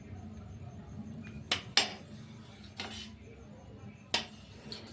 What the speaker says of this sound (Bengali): এই দেখো এই সাইজের ছোটো ছোটো পনিরগুলো কেটে দিচ্ছি